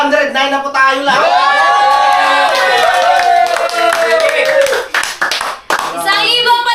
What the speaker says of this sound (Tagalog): Isang ibang palakpak.